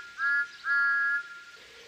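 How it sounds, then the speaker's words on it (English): A steam locomotive whistle peeping in a children's train story, two clear sustained high whistle tones in quick succession, fairly loud and alone against a quiet background. ""Peep, peep, peep! Where is the conductor?" whistled Thomas."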